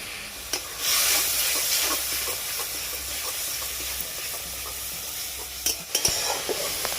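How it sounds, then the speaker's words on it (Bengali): Spice masala with cumin powder and dried fenugreek leaves fries in a pan, a continuous hissing sizzle close up with a few sharp scrapes and taps from stirring. "মশলা আমার ভালোভাবে ভাজা হয়ে গেছে"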